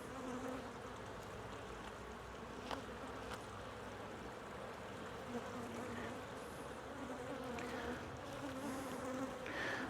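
Honeybees buzzing around an open hive during an inspection with frames pulled, a steady dense hum filling the scene with a few brief clicks and bumps, fairly soft and without talk.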